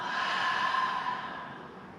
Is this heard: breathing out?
yes